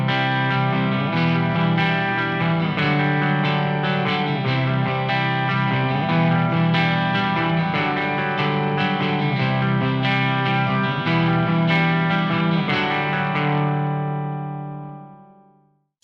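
Two electric guitar parts layered together, one strumming full chords while the other adds a sparkling harmony lead line on top, played steadily and loud with effects, ringing out and fading near the end.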